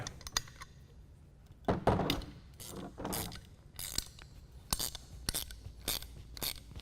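A single 7/16 wrench tightens a nut and bolt on a Pioneer rotovator handle, heard as faint, scattered clicks and metallic clinks at close range over quiet background.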